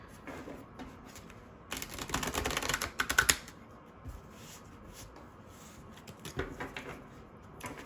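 Tarot cards are shuffled by hand in a quick riffling burst of papery flicks and taps, alone in a quiet room, with softer card handling before and after.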